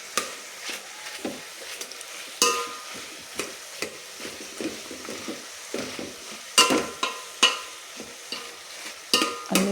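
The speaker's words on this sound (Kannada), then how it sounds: "ಅಲ್ಲೇ ಬೇಯ್ತಾ ಇದೆಯಲ್ಲ, ಅದಕ್ಕೋಸ್ಕರ ಹಂಗೆ ಸೌಂಟಲ್ಲಿ ಹಂಗೆ ಸ್ಮ್ಯಾಶ್ ಥರ ಮಾಡ್ತಾಯಿದ್ದೀನಿ" A ladle mashing and stirring tomatoes as they cook for huruli saaru, horse gram soup, giving repeated wet squelches and scraping knocks against the pot in an irregular rhythm over a faint sizzle.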